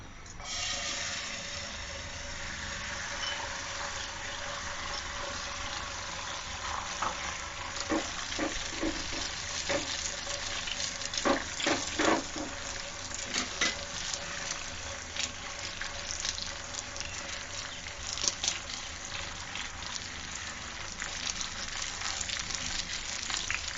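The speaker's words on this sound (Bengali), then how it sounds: "আমি এই যে ডিম 2টা নিয়েছিলাম সে 2টাকে এখন ভেজে নিব" Two eggs fry in hot oil, giving a steady, fairly quiet sizzling hiss with scattered crackles and pops that bunch up in the middle, and no talking.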